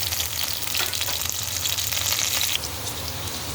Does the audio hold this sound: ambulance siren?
no